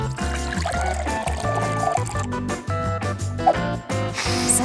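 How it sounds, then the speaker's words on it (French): Boiling water poured from a kettle onto chocolate pieces in a glass, a steady liquid pour lasting several seconds over soft background music. "Il ne me reste plus qu'à ajouter de l'eau bouillante."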